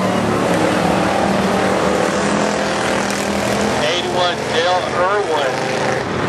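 Pure stock race cars at Barona Speedway in a main event: a continuous loud engine roar as the cars race past, with excited commentary running over it.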